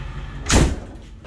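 An ambulance door closes with a single short, heavy thud over a steady background hum.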